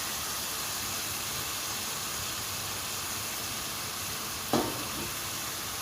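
Grated onion and garlic sizzle steadily in a hot frying pan for a lasagna base, a constant bright hiss with one sharp louder spatter near the end.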